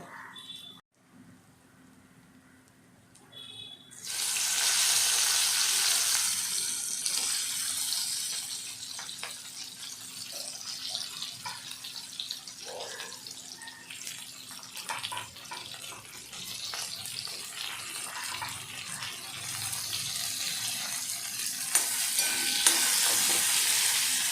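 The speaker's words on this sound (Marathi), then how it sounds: "मिरच्या याच्यामध्ये छानपैकी आपण आता परतवून घ्यायचे आपल्याला" Chillies being sautéed in a pan with a little turmeric give a sustained, hissing sizzle that starts abruptly and continues steadily, with occasional stirring scrapes.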